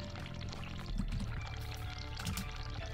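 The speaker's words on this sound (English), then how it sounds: "Run hot water. Always run the hot water." Hot water running from a tap in a video game, a soft splashing pour that continues for a few seconds at moderate level with no talk.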